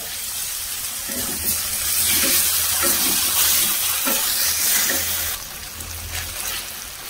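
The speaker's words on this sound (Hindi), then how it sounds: "तेबे आमे एथिरे 2 स्पून पानी ऐड करबा" Water is poured into a veg cabbage Manchurian sauce mix of red chili sauce and tomato ketchup, giving a steady hissing, sizzling wash of sound that eases slightly in the last couple of seconds.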